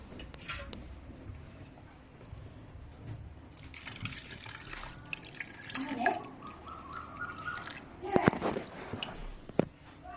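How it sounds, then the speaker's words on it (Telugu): Tamarind juice pours into a fish curry in the pot, with soft, intermittent liquid splashing and trickling in a faintly noisy kitchen, growing a little louder near the end. "చెప్పిన ప్రకారం చింతపండు పులుసు వేస్తున్నాం."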